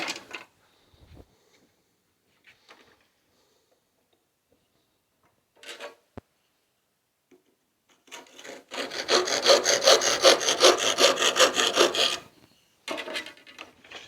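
After scattered knocks and silence, a hand saw rasps back and forth through wood on a workbench in rapid strokes for several seconds, close by, then briefly resumes.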